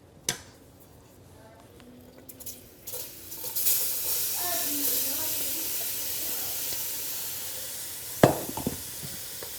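Vegetables tipped into a dark roux in a skillet for frog leg and alligator gumbo, a burst of sizzling that swells and holds as a steady close hiss, with scattered clanks of a utensil and a sharp knock near the end.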